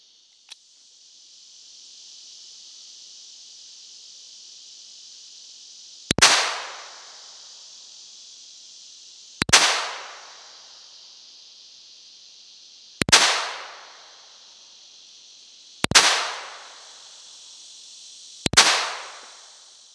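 Five sharp shots from a Walther PPK/S pistol ring out at irregular intervals of a few seconds. Each crack is loud and decays quickly over a steady insect-like background hum outdoors.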